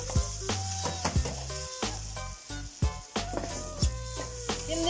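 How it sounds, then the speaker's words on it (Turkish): Washed rice for pilaf is toasted in a pan, giving a soft continuous sizzle broken by repeated spoon scrapes and stirring knocks, close up and moderately loud, with no talk. "pirincimizi kavuruyoruz"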